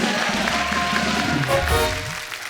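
Studio audience applause on an Indian comedy talk show, a dense steady wash of clapping over music and crowd noise, continuous and fairly loud throughout.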